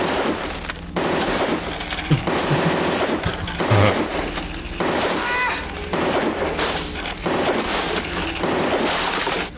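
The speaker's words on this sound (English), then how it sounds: "It's RoboCop. That fucking gun." RoboCop's pistol firing in the 1987 action sci-fi film, a series of loud, heavy, evenly spaced shots with booming echoes, mixed with movie score and effects, with voices talking.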